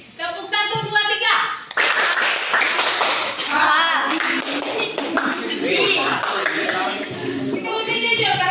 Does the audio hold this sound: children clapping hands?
yes